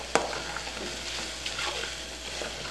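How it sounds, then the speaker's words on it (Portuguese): Shrimp filling for savory pastries sautés in a pan with a steady, close sizzle, and a sharp utensil tap sounds near the start. "Deixa refogar bem, porque aí fica mais gostoso."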